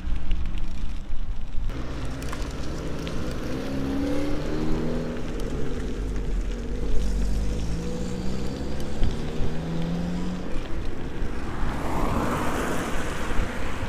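A car drives along city streets in Makeevka, a steady close engine drone and tyre roar filling the cabin throughout, with wind and road noise and no talk.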